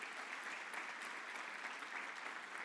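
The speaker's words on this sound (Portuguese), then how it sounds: "Você pode aplaudir o Senhor Jesus por esse lugar que o Senhor tem" Church congregation applauding together, a steady, dense wash of clapping that holds evenly throughout, heard at a fair distance and rather faint.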